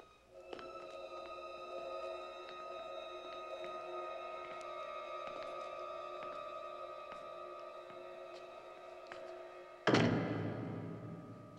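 A sustained tonal drone holds steady for several seconds, then an outside door upstairs closes with a single sharp thud followed by a short decaying rumble.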